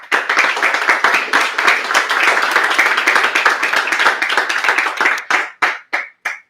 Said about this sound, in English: So I think it's valid a round of applause